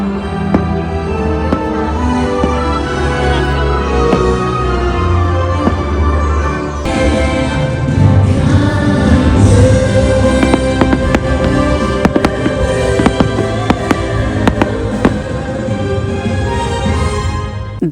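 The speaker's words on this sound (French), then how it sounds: "Le soir venu, nous avons eu la chance d'assister au feu d'artifice dans le quartier principal devant le lac surplombé par le volcan" Fireworks bursting over a lake beneath a volcano in Japan, a dense, continuous loud display with overlapping booms and crackles over about eighteen seconds.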